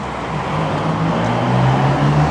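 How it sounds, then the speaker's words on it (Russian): Cars driving along a noisy street in Liepāja, Latvia, a steady loud roadway rumble with engine hum close by, continuous for the whole stretch. "Здесь очень громко машины ездят."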